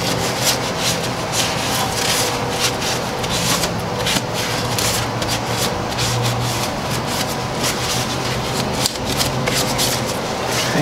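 A rag with brake cleaner is rubbed over a car wheel hub during a brake job, giving a continuous scrubbing and rubbing sound with rapid repeated strokes, close up and without speech.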